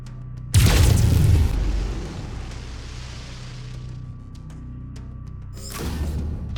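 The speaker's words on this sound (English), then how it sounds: "Lasers are mapped to Weapon Group 2. Fire them when ready." Lasers fired from a mech's Weapon Group 2 in MechWarrior 5: Mercenaries: a loud, booming discharge bursts in, holds for about a second, then thins into a long rumbling tail, with a second, quieter burst near the end.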